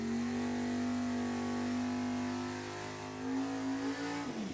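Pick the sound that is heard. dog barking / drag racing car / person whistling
drag racing car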